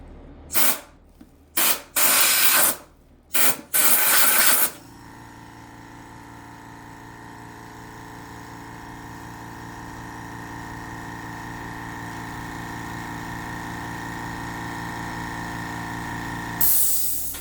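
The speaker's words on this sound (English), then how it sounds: "we're going to take our air gun again and we're going to spray out all this extra WD-40" Compressed air gun blasting excess WD-40 out of a long arm quilting machine: several loud, close hissing bursts in the first few seconds, then a long steady mechanical whir that slowly builds before a final short burst.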